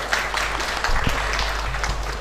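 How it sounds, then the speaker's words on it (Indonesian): An audience at a pesantren caretakers' association inauguration in Bekasi claps together, a dense sustained wash of applause with a low hum beneath and faint voices mixed in. "Tepuk tangan dulu dong."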